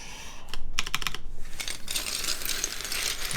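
Computer keyboard keys clack close by, a quick cluster of separate presses followed by a denser run of typing, crisp and loud with no talking.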